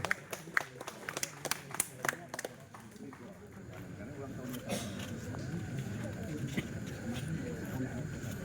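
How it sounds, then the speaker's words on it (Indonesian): Audience applause at a formal Indonesian gathering for Buya Syafii, scattered sharp claps at first that swell into a dense, sustained round of clapping from a hall crowd. "Tepuk tangan pada hadirin."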